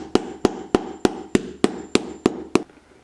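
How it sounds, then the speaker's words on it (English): A hammer pounds a heel lift onto a shoe heel, nine sharp, evenly spaced strikes about a third of a second apart, close and crisp, then quiet. "you can use a hammer to really pound this thing on"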